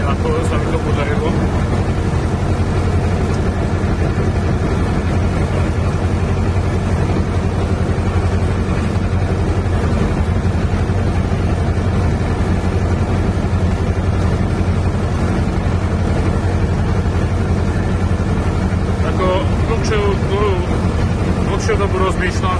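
Zetor 4011 tractor engine running at a steady idle, a loud, continuous low rumble that lasts throughout, with a voice partly buried beneath it.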